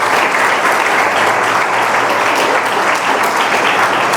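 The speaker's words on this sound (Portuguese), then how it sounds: "aplauda o Senhor com alegria" A church congregation applauds with dense, loud clapping that holds steady and close throughout, with no pauses.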